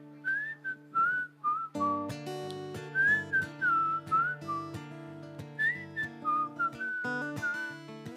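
A person whistles a melodic song tune in clear, bending phrases, backed by steady sustained instrumental chords, with no talking.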